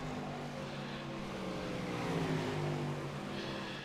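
Sportsman 305 Limited race cars roaring around the Williams Grove dirt track, a steady blended engine drone from several cars that swells slightly mid-pass before easing off, with no talk over it.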